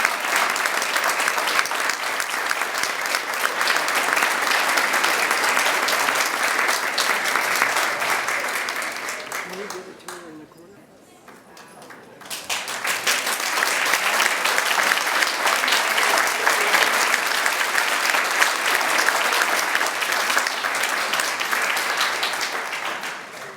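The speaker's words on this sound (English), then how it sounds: "Please give a round of applause to one of this year's winners, Miss Amy Devashian." A banquet hall audience applauds an award winner at a school district co-op banquet: loud, dense clapping that dips and nearly stops midway, then swells back up and continues steadily to the end.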